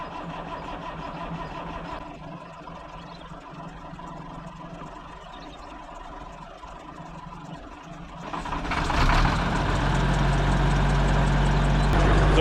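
A Cummins diesel in a ranch truck rumbles at a steady idle, then swells louder and deeper around eight seconds as it revs up and holds a heavier drone, close by with no talk.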